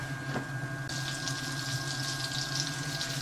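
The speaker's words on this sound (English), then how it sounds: "as the butter starts to foam" Butter foaming and sizzling in a frying pan in a cafe kitchen, a steady close hiss that swells suddenly and then holds over a low background hum.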